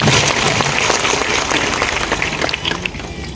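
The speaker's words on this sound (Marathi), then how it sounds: "त्यांच्यासाठी जोरदार टाळ्या झाल्या पाहिजे" A large crowd at a political rally claps loudly and steadily for a few seconds, a dense wash of applause that tapers slightly at the end.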